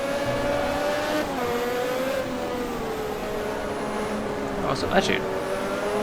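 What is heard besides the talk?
Lotus F1 car engine in racing game Automobilista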